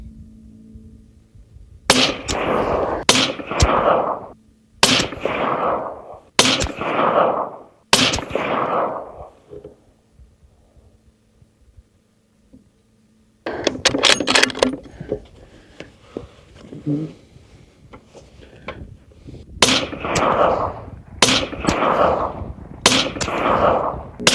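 A rifle fires at an outdoor shooting range in loud, sharp reports, spaced a second or two apart in several groups, each shot ringing out with a short echo and quiet pauses between strings.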